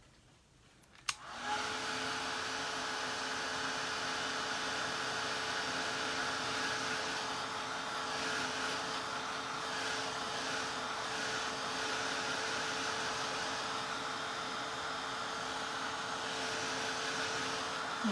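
A hair dryer drying wet paint on a sunflower painting clicks on after about a second, then runs as a loud, steady whirring hum with a constant tone until the end.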